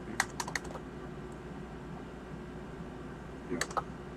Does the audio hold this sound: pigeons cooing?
no